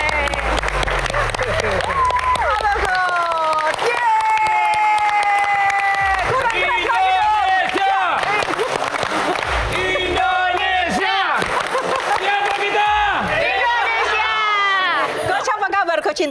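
A crowd at a live Q&A event applauds and cheers to welcome a coach. Loud, continuous clapping and shouts run throughout, with a host speaking over the noise.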